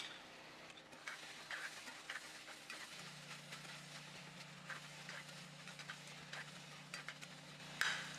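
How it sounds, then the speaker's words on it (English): Ground beef bulgogi being stirred with sauce in a pan, giving faint, soft scraping and stirring strokes over a quiet sizzle, with a few sharper utensil clicks near the end. "let's stir this in and see how that tastes"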